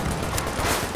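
A seeker mine detonating in The Division, heard as a dense, crackling burst that fills the whole second with broadband noise.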